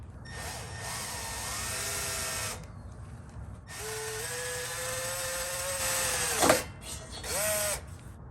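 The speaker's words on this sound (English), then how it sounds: "I'm going to use my Milwaukee M12 drill to start drilling the holes." A Milwaukee M12 cordless drill whines in several bursts, its pitch rising and holding as it bores holes, with brief pauses between runs.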